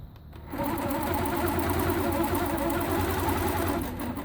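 A longarm quilting machine stitching a quilt, a fast, steady mechanical whir with a rapid, even needle rhythm that starts abruptly and runs loud and close with no talking.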